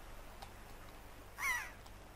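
A single short seagull cry from The Legend of Zelda: Wind Waker, sounding once over a quiet game background.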